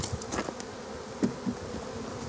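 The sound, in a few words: bees buzzing around hive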